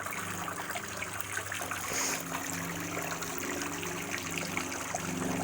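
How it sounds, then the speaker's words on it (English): Water trickles and burbles continuously through a small brook-style water feature in a front yard, a soft, steady babbling that stays close and even without any voices. "like a little babbling brook type thing was what I was going for."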